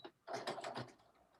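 A sewing machine back-stitches a fabric seam with a short mechanical whir of about half a second, close by and alone.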